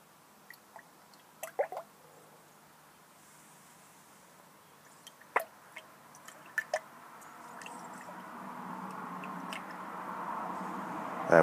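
Oil, water and detergent sloshing in a container during a vigorous shake: a few sharp wet clicks and splashes, then a steady rising liquid rush that swells toward the end, with no talking.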